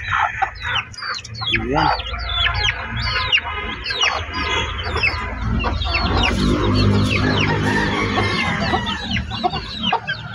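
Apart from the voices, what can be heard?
hen with newly hatched chicks clucking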